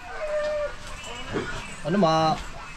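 Chickens on a poultry farm raising pullets let out a few short clucks and calls, close by, while people talk over them.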